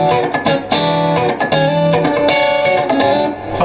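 A Suhr Guthrie Govan signature electric guitar plays a clean tone, a busy run of plucked notes and chords sounding close and continuous with no voices.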